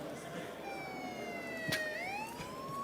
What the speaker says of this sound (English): Somebody Wow. planted a siren